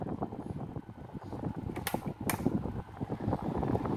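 A Mondial electric fan runs on its lowest speed, giving a close mechanical whir with small rattling and creaking clicks, plus a couple of sharp higher ticks midway.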